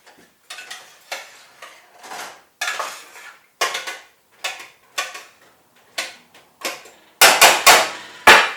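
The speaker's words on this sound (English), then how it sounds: "Guess I need a big spoon. There's a big spoon. Give it a bit of a stir." A big spoon stirs Irish stew in a metal pot, giving a string of sharp scraping clanks at an uneven rhythm, close and loud, growing heavier and faster near the end.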